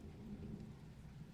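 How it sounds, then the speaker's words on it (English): Heavy rain pours steadily during a thunderstorm with hail in Vernon, British Columbia, a dense low rumble that could be distant thunder running under it throughout, with no voices. "Lots of rain, lots of hail, some thunder, some lightning."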